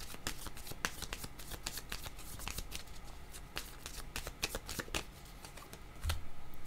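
A deck of cards shuffled for a tarot-style reading: close, dense riffling and flicking in steady repeated bursts, fairly loud and alone without speech.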